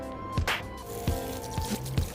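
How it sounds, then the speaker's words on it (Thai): Water sloshes and trickles as salty brine is rinsed off preserved fruit, with close, faint splashes and a few soft drips recurring every half second or so. "เทน้ำเกลือออกให้หมดเลย แล้วก็ล้าง"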